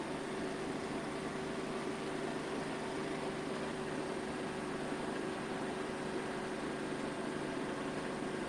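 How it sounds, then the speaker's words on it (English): A TYM T254 25-horsepower tractor engine runs steadily at a sawmill, a constant droning hum with a low tonal whine, no one speaking. "This is a TYM T254 25 horsepower tractor."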